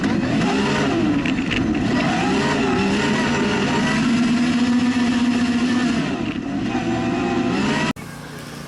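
A Yamaha YXZ 1000R side-by-side with its new three-cylinder engine runs loud and close, holding a steady high-rev drone with rising and falling pitch before cutting off abruptly near the end.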